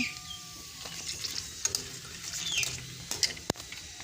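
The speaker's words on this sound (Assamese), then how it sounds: "এনেদৰে মই ফ্ৰাই কৰি ল'লোঁ।" Puri for phuchka (pani puri) puffing in hot oil, a soft steady sizzle with scattered light clicks and a sharp tap near the end.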